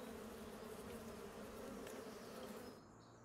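Bees in Farming Simulator 25 give off a steady, dense buzzing drone that holds evenly for about three seconds, then drops away sharply near the end, with no talking over it.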